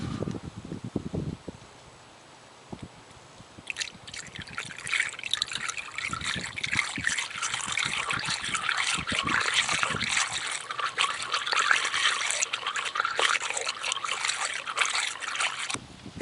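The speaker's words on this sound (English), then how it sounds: "when you pour the engine coolant into the spill-free funnel, pour it slowly" Engine coolant trickles slowly into a spill-free funnel on a car, a quiet, continuous liquid pour that starts after a few seconds of faint handling noises and keeps running steadily to the end.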